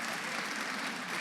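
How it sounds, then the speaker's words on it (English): Steady, even applause from a crowd at a Black History Month celebration in Gwinnett County, a brief continuous wash of clapping at a fairly quiet, distant level. "Give him a round of applause."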